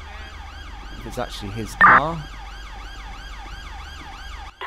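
An ambulance siren in the GTA 5 video game wails in a steady rising and falling cycle throughout, with someone speaking briefly over it.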